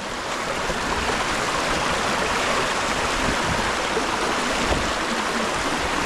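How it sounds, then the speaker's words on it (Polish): Continuous rushing water of a stream or small waterfall, dense and steady throughout, close by with no voices. "Wodospady"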